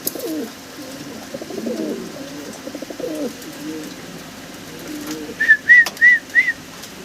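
Pigeons coo softly at a pigeon farm among caged birds for sale, low burbling calls in the first half giving way to a short run of four clear, evenly spaced whistling notes near the end.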